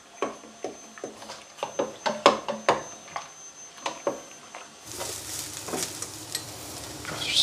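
Sauce mixture stirred in a pan, a run of sharp, irregular taps and scrapes close by, then a steady sizzling hiss taking over near the end.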